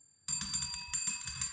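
A notification-style bell effect rings in quick repeated strikes after a brief silence, bright and close, with no voices.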